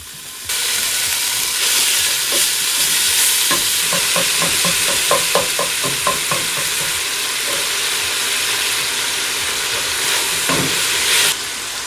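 Ground beef frying in a pot for beef chuck chili, giving a loud steady sizzle and hiss the whole way through, with a few clinks as it is stirred. No one speaks.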